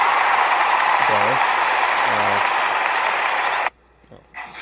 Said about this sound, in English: We got a little applause.